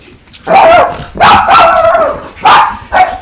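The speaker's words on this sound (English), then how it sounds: "Goddamn dogs." Several loud, close dog barks come in bursts, a pair of quick barks then a longer run of sharp woofs followed by two more, with no talking over them.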